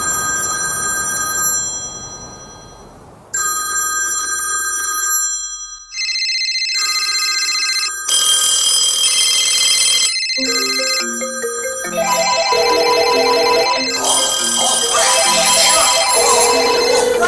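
Loud, bright electronic ringing from a telephone, in repeated bursts that change pitch and pattern with brief gaps between them, heard alone without talk.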